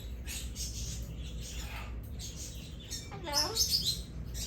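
A parrot in a parrot retail store in Pineville, North Carolina, gives a short chirpy call like a spoken hello, rising above a steady crowd murmur and background chatter.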